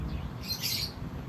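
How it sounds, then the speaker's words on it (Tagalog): Birds, some of them caged, squawking and chirping in a brief burst over a steady outdoor background hum, with no one speaking. "Ang dami rin nakakulong na ibon dito."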